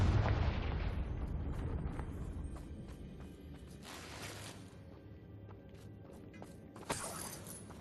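A Confringo fire spell explosion in Hogwarts Legacy on Nintendo Switch, a loud booming blast that opens the clip and rumbles away, followed by scattered debris crackles and a smaller burst near the end.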